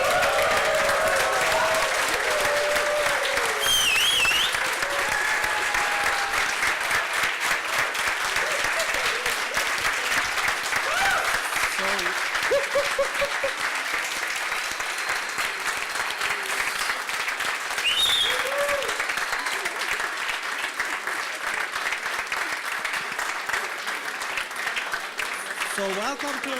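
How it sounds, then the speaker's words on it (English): A startup conference audience in Istanbul claps loudly and continuously for nearly half a minute, a dense sustained wash of applause with a little crowd noise mixed in. "So stand up and give them a big round of applause."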